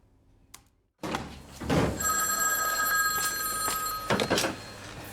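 An old-style telephone bell rings in a film scene, a long bright trill after a soft knock and a thud, with a couple of clunks as the handset is picked up.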